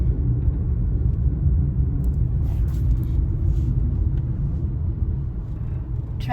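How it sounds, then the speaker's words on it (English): Steady road traffic rumbles past a car cruising on a Texas road near Conroe, a dense low drone that holds evenly with faint higher hiss and no talking. "Traffic is not bad at all today."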